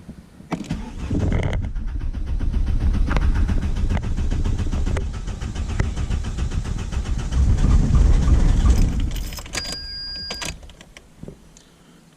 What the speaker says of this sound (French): Il va peut-être pas tourner rond le moteur